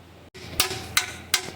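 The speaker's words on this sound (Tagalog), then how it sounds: "pinupukpok na ng ating kasama itong oil pan para humiwalay na" Three sharp metallic hammer blows on the oil pan of a Toyota Camry 2AR engine ring out at an even pace, close and clear, against a quiet hum.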